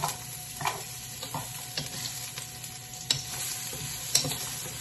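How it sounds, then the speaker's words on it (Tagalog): Ginger sautéing in a pan for a simple home-cooked dinner: a soft, steady sizzle with occasional light stirring clicks and taps, fairly quiet and with no talk. "So, igisa na natin, guys. Unahin ko muna yung ginger."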